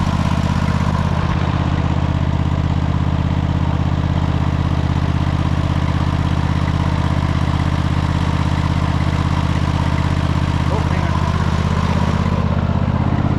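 A Cub Cadet GT 1554 riding mower engine drones steadily and loudly up close while the machine is driven, a constant low mechanical hum that holds without a break for the whole stretch.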